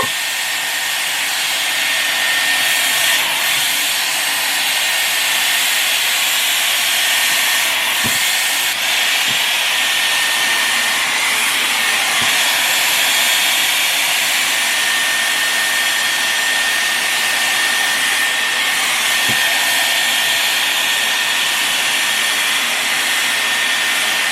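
Dyson Airwrap hot air brush running on its hot setting while styling hair, a loud steady airy whoosh and hiss that holds unbroken for the whole stretch with no talking.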